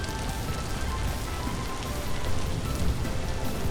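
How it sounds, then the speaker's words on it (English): Loud, steady video game rain pours across the whole stretch, a dense continuous hiss with pattering drops and no pauses, heard alone with no voices over it. "the rain is so goddamn loud"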